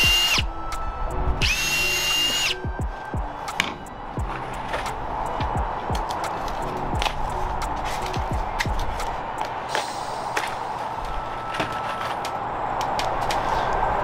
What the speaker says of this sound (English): I'm gonna pre-drill at the edge of this. If not, this wood will split